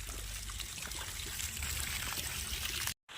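Water flows out to irrigate a grass crop on a farm, a steady close rushing pour that continues almost unbroken before a brief cut near the end.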